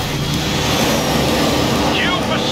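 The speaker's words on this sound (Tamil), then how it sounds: "the baddies in a jet plane, so what?" Jet plane engine roar in the Forza Horizon 4 racing game, a loud steady broadband rumble filling the whole clip with a whooshing rise near the end, with speech mixed over it.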